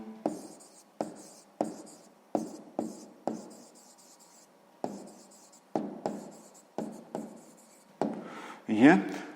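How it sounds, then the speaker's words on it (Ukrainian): A pen writing a maths answer for a sixth-grade exercise on paper, a series of short scratchy strokes in quick bursts with brief pauses between them, close and clear, ending in a louder scribble. "записуємо тоді відповідь"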